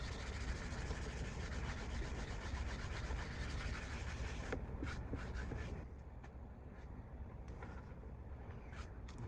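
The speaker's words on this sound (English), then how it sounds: "I'm just giving it a quick buff here and now." A cloth buffing an oiled wooden cutting board, a dense steady rubbing and swishing up close that turns into lighter, sparser strokes partway through.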